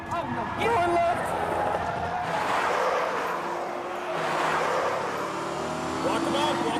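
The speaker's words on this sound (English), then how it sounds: "A perfect J-turn there, and now he's got that powerful BMW pointed in the right direction" A powerful BMW swings through a J-turn in a police chase, its engine revving and tyres scrubbing in a broad roar that swells and eases across several seconds, with voices talking over it throughout.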